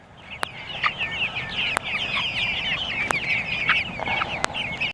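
Backyard chickens clucking in the morning before being fed, a busy flock of close, overlapping clucks and chirpy calls with a few sharp knocks in between, no talk.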